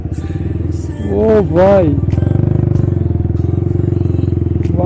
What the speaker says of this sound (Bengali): তো ভাই দেখো মাসুদ ভাইয়ের হুইলি ভাই